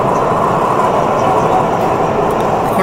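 A bullet train running at 345 km/h between Guangzhou and Shenzhen gives a loud, steady, dense rumble and rushing roar from inside the carriage, unbroken throughout.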